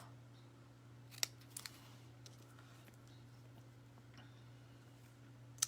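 Scissors cutting paper for a Hanukkah card: a few quiet, crisp snips spaced apart in a calm room, faint and close, with a last snip at the end.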